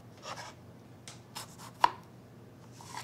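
Knife slicing through a raw potato held between spoons for hasselback potatoes: a few soft, short cutting strokes with one sharp tap as the blade meets the board, close and quiet, no talking.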